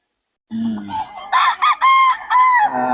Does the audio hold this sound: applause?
no